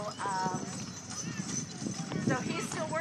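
Hooves of Percheron draft horses pulling in a six-horse hitch clop steadily beneath a busy crowd and someone talking, with a brief whinny-like call rising amid the outdoor fair din.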